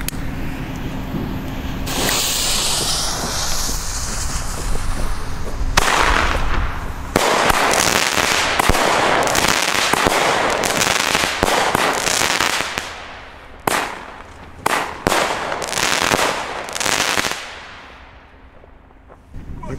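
Small Alba firework battery cakes, 20 mm calibre with 7 shots each, fire in loud sharp cracking bursts with hissing launches, several rapid salvos separated by brief pauses, close and without talk.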